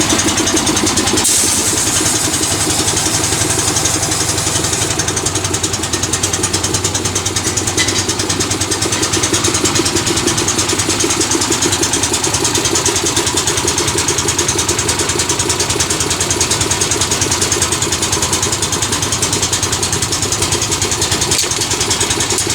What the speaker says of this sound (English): So now you got to fire up the compressor